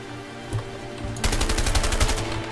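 Rapid automatic gunfire in the video game A Way Out, a fast rhythmic burst of close, loud shots following a single earlier thud.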